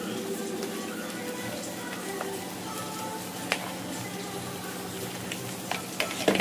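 Chicken fried rice sizzles steadily as it is stir-fried in a pan with pepper added, with dense, continuous frying close by and occasional sharp clicks from the spatula toward the end.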